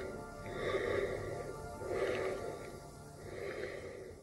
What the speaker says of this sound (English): the sounds of Michael's breathing getting louder and louder